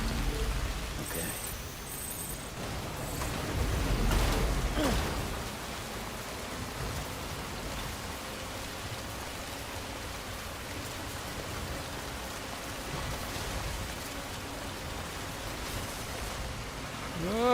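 Steady rain from the Death Stranding video game, a constant hiss of drops falling on surfaces across the whole stretch, swelling briefly near the start with a low rumble before settling into an even downpour, with no talking.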